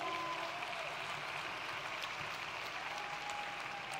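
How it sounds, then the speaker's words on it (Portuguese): An audience at a conference event gives a speaker a round of applause: faint, steady, distant clapping with no voices over it. "Aplausos nunca são demais."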